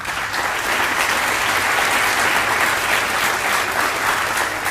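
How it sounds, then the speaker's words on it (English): Steady, dense applause from an audience at a Teacher of the Year 2022 ceremony, a full room clapping continuously and loudly with no gaps, as a guest from a motor car dealership is introduced. "Please give your applause to Jeff Reynolds"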